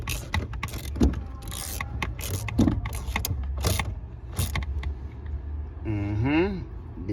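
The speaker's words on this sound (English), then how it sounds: "So we're going to tighten these 4 studs now." Short metallic ratchet and wrench clicks while nuts are tightened onto the four studs of a vehicle vacuum booster, intermittent bursts close by with someone talking between them.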